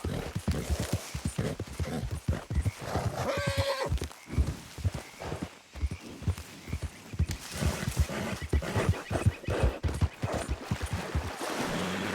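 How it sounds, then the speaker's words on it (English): A horse in the video game Red Dead Redemption 2 clip-clops along at a steady gait, hooves beating rhythmically and close, with a neigh cutting in partway through. "Damn drunk horse."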